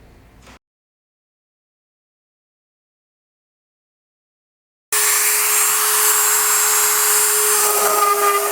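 A power tool drives screws down on the wing servos of a Team Legit FG36 model aircraft. A short faint noise is followed by silence, then a loud, steady whir lasts about three and a half seconds.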